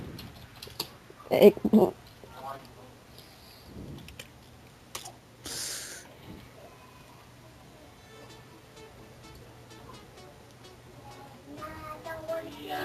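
Typing on a computer keyboard comes in scattered soft clicks under a boy's conversation in Lithuanian, with a brief louder burst of clatter early on.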